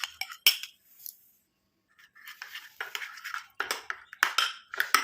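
A spoon stirs a milk mixture in a small bowl for a homemade skin pack, giving bright scraping clinks in quick close bursts with a short pause partway through.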